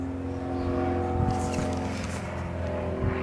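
Chevrolet Chevelle muscle car with a custom 3-inch exhaust idling, a steady deep rumble close by with a faint voice in the background.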